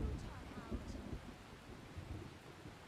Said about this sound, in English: Remember that storm I told you that I was going to get to my apartment at around like around 3? It's showing up.